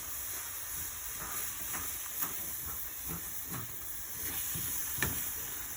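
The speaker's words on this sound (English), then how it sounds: "Might be able to hear that nice sizzle." Scrambled eggs sizzle quietly in a hot pan, a steady hiss with small crackles and pops scattered throughout.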